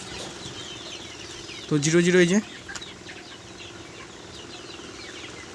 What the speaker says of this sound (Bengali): তো এবার চলুন, এটা মুরগি একটা